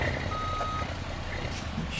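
A heavy truck in the BeamNG.drive video game backs up, sounding a steady electronic reversing beep over a constant low engine rumble, loud and close.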